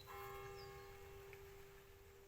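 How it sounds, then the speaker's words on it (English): A church bell rings the hour at two o'clock. Its sustained tone hangs faint and distant over a quiet background. "2 o'clock, the bell's ringing."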